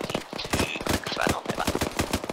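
Rapid bursts of automatic gunfire from the military shooter Arma 3, loud and close, a dense rattling volley with no pause across the whole moment.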